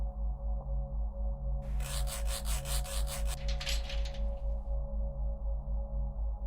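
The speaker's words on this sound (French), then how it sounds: "je suppose que je vais devoir scier la chaîne" Rough, rhythmic rasping of a saw working through a chain in the horror game True Fear: Forsaken Souls, a few seconds of back-and-forth strokes over a steady low mechanical hum.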